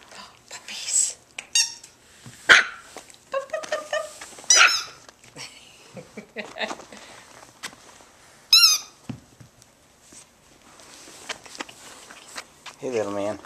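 Young puppies that are teething whimper, squeak and give short yelps in bursts close by, with footsteps and quiet human talk in between.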